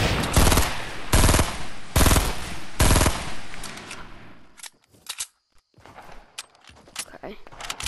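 Rapid bursts of gunfire in the Fortnite video game, four loud volleys in quick succession followed by scattered sharper shots and clicks, with no voices over them.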